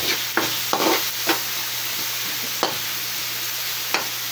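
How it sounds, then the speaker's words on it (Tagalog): Ground meat sautéing in oil in a pan for pinakbet, a steady close sizzle with occasional sharp scrapes and taps of a stirring utensil. "ilalagay natin itong karne muna, giniling"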